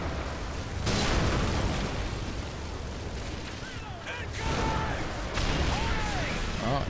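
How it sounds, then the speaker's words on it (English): Rockets fired and bursting in Modern Warfare 3 combat against tanks, heavy booming blasts in two loud surges amid constant battle rumble and gunfire, with a voice talking over it. "Oh, he's got rockets? I got rockets."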